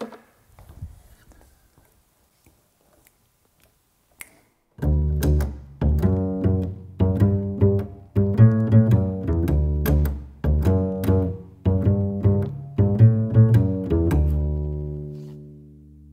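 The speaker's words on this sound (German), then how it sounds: "Ich kann die Saiten des Kontrabasses allerdings auch mit meinen Fingern zupfen." After a quiet start with faint rustling, a double bass is plucked by fingers in a lively sequence of deep, resonant notes, close and clear, ending on a long ringing tone.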